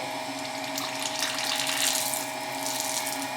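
Coolant gushes and hisses steadily from an opened valve onto a milling machine's collet chuck. The rushing flow is continuous and close, at low pressure, and stays even for a few seconds with no talk.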